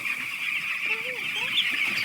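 Chickens on a poultry farm in Bihar, with a persistent high-pitched chorus of cheeping from many birds and a few nearer clucks rising above, heard fairly close and continuous.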